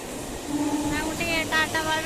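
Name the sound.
train at a railway station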